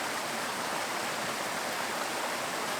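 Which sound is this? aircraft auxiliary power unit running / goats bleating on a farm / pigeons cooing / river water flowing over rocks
river water flowing over rocks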